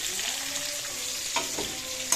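Vegetables sizzle and crackle as they fry in a pan, a steady close hiss with a few louder pops and stirring scrapes, no voices.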